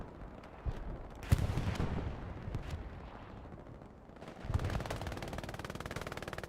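Machine gun fire in the World War II shooter Hell Let Loose, during a night battle at Foy: distant thumping shots and booms, then a faster rattling burst of fire toward the end, with no talking.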